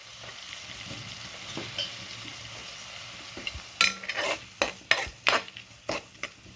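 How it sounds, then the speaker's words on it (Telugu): Peas and tomatoes being stirred in a pan for mealmaker dum biryani: a low sizzle first, then a run of sharp spoon scrapes and clanks against the pan in the second half, with no talking. "అన్నీ వేసేసుకుని మీరు ఇలాగా కలిపేసుకోండి"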